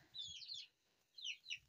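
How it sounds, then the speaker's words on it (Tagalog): Chickens clucking in a village yard in Rawalakot, Azad Kashmir, with two short bursts of calls separated by a brief pause, fairly close but quiet, with no talk. "Yan, mga manok."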